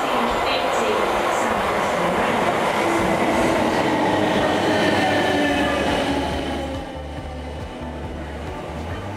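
Riding a train or Tube back into London: a loud, steady rolling rumble with rail clatter and faint squeal that eases into a lower, quieter hum near the end.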